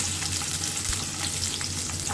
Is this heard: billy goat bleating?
no